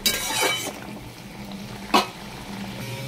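Prawn do pyaza curry simmering in a pan: a soft, continuous sizzle and bubbling, with a couple of brief utensil clinks against the pan.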